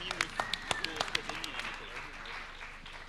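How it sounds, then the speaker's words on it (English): Scattered claps from a summit audience in Bucharest, a few sharp distinct hand claps at first that thin out, with people talking and a brief whoop over a quiet room murmur. "So you think that was a bigger applause?"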